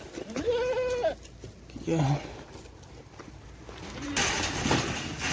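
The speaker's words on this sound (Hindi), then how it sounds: "हमारी भेड़ें और बकरियां।" Goats and sheep bleat close by in Saudi Arabia, several short wavering calls in a row, mixed with a voice talking and outdoor rustling.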